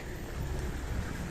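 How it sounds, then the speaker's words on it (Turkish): Steady broadband hiss of rain near Hopa on Turkey's Black Sea coast, fairly soft and continuous, with a low rumbling undertone and no voices. "Yağmur."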